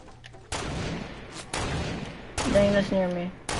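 Gunfire in the Fortnite video game: several bursts of rapid shots, near and loud, with a steady background of game sound under them and a voice talking over parts of it.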